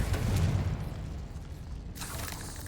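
A Confringo blasting spell explodes in Hogwarts Legacy, a deep booming blast with a low rumbling tail that fades, followed by a brief crackling burst near the end.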